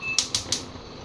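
Gas stove igniter clicking in a home kitchen, three sharp, quick clicks close up in about half a second, then quiet.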